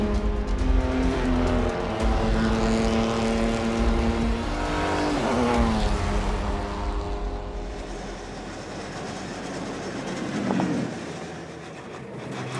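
A car drives fast around a steep banked race track in Europe, its engine droning loudly and continuously with shifting pitch and road rumble, up close and without talk.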